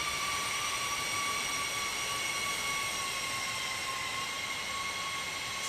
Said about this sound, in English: Listen to that spool down.